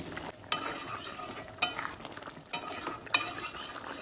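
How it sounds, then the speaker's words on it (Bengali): Chicken curry with water, salt, turmeric and chilli paste being stirred in a pot: a soft simmering bubble under repeated sharp spoon scrapes and clinks against metal, about four distinct strokes, close and clear. "সব কিছু ভালোভাবে মিশিয়ে নেব।"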